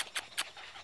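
Border Collie puppies let out two short, faint whimpers close by, with a soft low background and no talking.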